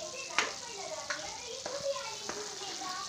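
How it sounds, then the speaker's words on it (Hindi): A masala spiced with garam masala sizzles quietly in a pan while a spoon stirs it, giving a steady frying hiss with a few soft scraping strokes, close but low in level. "इसे हम अच्छे से मिक्स करेंगे।"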